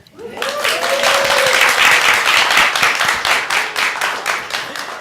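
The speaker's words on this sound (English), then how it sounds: "You can applaud." An audience breaks into steady applause, many hands clapping together at a strong, even level, then tapering slightly toward the end.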